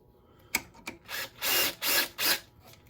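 The serpentine pulley kit on a Westerbeke 55B marine diesel is tightened down with a wrench: two quick clicks, then three short rasping ratchet bursts close by.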